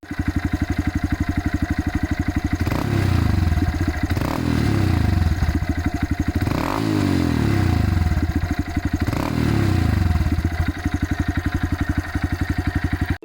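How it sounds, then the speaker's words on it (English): A Honda Grom motorcycle with an aftermarket exhaust, set up for off-road riding, idling with a lumpy rapid putter and then blipped through four loud revs that rise and fall, close to the listener with no talk. "Here's what the bike sounds like with the exhaust on."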